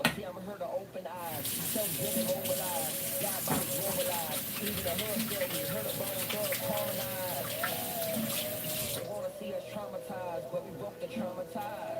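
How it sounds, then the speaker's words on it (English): Hands rinsed under a running kitchen tap, water splashing steadily for several seconds before cutting off, with faint voice-like tones underneath. "Let me just rinse my hands a bit."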